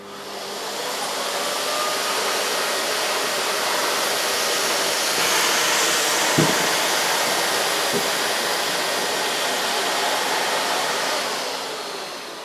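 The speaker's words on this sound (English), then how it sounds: "I'm going to use full power in each instance" A Miele S4780 cylinder vacuum cleaner runs at full suction power, making a loud, constant rushing roar with a couple of brief soft knocks midway.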